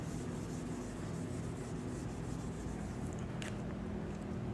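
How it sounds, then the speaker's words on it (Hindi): Scrubbing and writing on a classroom board during a maths lesson, a continuous dry rubbing rasp with a brief scratchy stroke near the end, close and steady without speech. "मैं एक बार यहाँ लिख देता हूँ इसको रब करके।"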